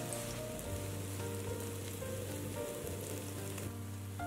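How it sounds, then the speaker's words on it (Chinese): Spoonfuls of glutinous rice batter with orange peel and black sesame fry as small cakes in a lightly oiled pan, giving a continuous close crackling sizzle under a steady background tune. "锅内倒入一点油，用勺子舀入面糊，放入锅内，摊成小饼"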